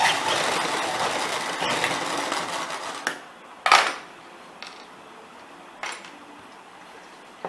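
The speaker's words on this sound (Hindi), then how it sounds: "तो मैं ये सिलाई मार लूँगी।" A sewing machine runs steadily for about three seconds while stitching lace onto one side of a blouse back neck, then stops, followed by a few sharp isolated clicks and taps.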